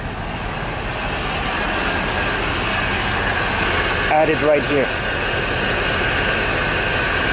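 A 2021 Chevrolet Impala SS engine idles steadily during a water pump replacement and coolant top-up, a constant low rumble throughout, with someone speaking briefly over it.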